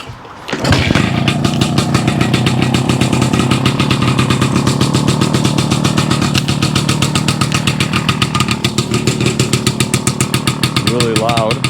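A restored 1960s Pannonia motorcycle engine fires up after a brief start and settles into a loud, steady, rapid idle close by, with a few throttle blips near the end.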